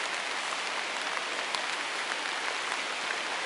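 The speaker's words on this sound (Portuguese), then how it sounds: "O negócio é pescar com chuva." Steady rain hisses down onto a river during a fishing trip on the Teles Pires, a dense, even patter of drops with no pauses, fairly close and continuous throughout.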